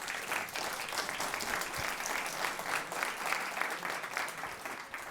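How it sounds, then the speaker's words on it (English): A demo day audience breaks into dense, continuous applause, a steady wash of many hands clapping that holds at an even level throughout, heard at a moderate distance. "One more time, can we give him a big round of applause?"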